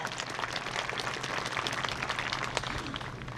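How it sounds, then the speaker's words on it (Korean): Steady applause from a crowd at a university entrance ceremony, a dense wash of clapping that holds at an even level throughout with no voices over it. "다시 한번 큰 박수 부탁드리겠습니다"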